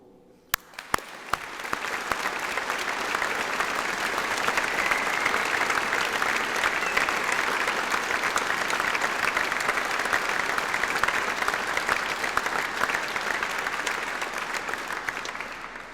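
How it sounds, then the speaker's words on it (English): A graduation audience at University Centre Sparsholt gives the graduates a long, dense round of applause that starts with a few claps, swells quickly and holds steady, loud and even, before easing slightly at the end. "I'd like to invite you to join me in one final round of applause for them."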